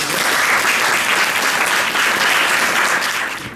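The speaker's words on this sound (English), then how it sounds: "So let's give an introductory round of applause to our panel." Conference audience at an energy prize panel session breaks into sustained applause welcoming the panelists, a loud, dense wash of clapping from many hands that holds steady and then tapers slightly at the end.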